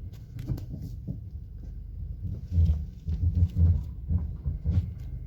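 A used Subaru backing up in reverse makes irregular clunks and knocks from a loose rear wheel, dull thumps recurring unevenly over a low rumbling drone.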